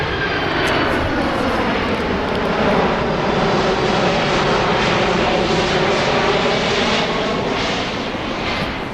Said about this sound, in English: they probably have these airplanes flying over their houses every day with that noise